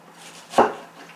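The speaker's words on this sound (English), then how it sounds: "I'm chopping it into even slices." A single knife stroke slices through a slightly yellow tomato onto a cutting board, one short crisp chop standing alone against a quiet kitchen.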